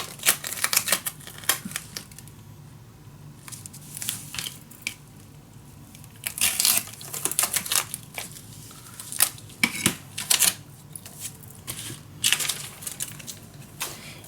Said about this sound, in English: I'm first going to peel off this one, so I can add another layer on.